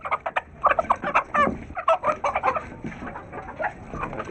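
Pet chickens cluck and squawk in a rapid, busy chorus while being fed; the calls are close and loud, with overlapping bursts and no talking.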